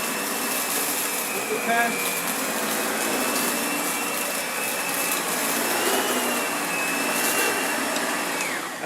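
A Lindhaus HealthCare Pro HEPA vacuum cleaner with a bypass motor runs with suction, a loud, steady roaring whine held throughout, while a voice speaks briefly.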